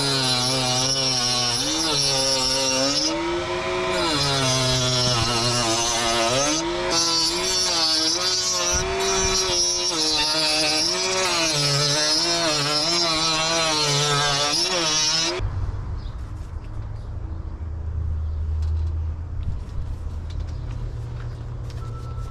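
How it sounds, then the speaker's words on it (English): A Shaper Origin handheld CNC router fitted with a slot cutter bit cuts a groove for a window frame, running loud and steady with a shifting whine for about fifteen seconds before stopping, leaving a low hum. "This is going to be to cut our groove for the window."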